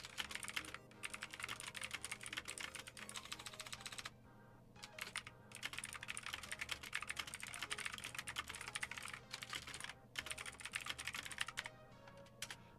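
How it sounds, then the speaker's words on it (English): Rapid, clicky typing on a computer keyboard, close and continuous, broken by a few brief pauses between bursts of keystrokes. "Can you guys hear me typing?"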